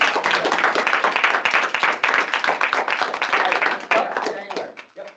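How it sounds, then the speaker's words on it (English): At a student senate general assembly meeting, an audience breaks into dense, close clapping that runs steadily with voices mixed in, then tapers off near the end. "Round of applause, please."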